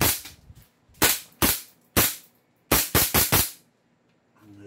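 A Desert Eagle pistol fires seven loud, sharp shots close by, first as three spaced single shots and then a quick burst of four, each cracking report fading into a short echo.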